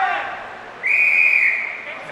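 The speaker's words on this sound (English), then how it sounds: "the whistle, which means there's 10 seconds" A sharp, sustained whistle blown by a professional boxing timekeeper marks ten seconds left in the round. It cuts in clearly over a faint arena crowd and holds steady for over a second before fading.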